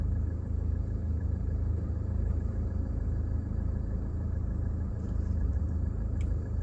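Steady road traffic heard from inside a car waiting at a busy roundabout in Lithuania, a constant low rumble of engines and tyres with no distinct passes, moderately loud and unbroken.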